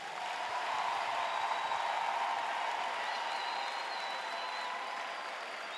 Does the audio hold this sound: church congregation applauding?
yes